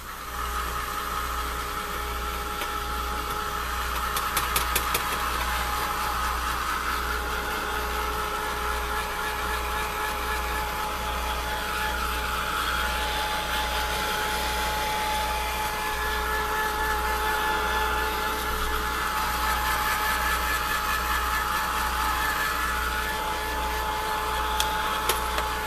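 A heat gun runs continuously at a lamp-refinishing station, giving a steady, even blowing hum and whir at close range with no talking.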